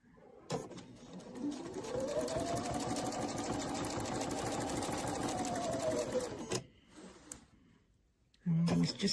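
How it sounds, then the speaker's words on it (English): A sewing machine runs a quarter-inch seam on quilt sashing, one close, steady burst of rapid stitching lasting about six seconds, then stopping, followed by brief handling sounds and a short voice at the end. "Just stitch this 1/4 inch seam."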